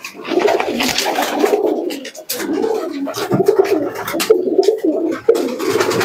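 Andhra pigeons, tournament-flying birds, coo repeatedly at close range, soft throaty rolling calls overlapping in a steady stream, with faint rustling around them.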